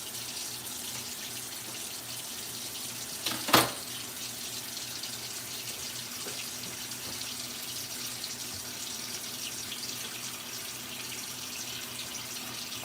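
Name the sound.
tap water running over food in sink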